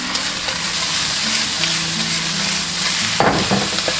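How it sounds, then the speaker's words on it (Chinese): Fatty beef slices and onion stir-frying in hot oil in a wok, a loud, close, continuous sizzle with brief stirring clatter near the end and no speech. "我们倒入食用油，我们先下入肥牛跟这个洋葱炒香"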